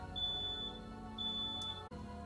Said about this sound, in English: that smoke alarm was a false alarm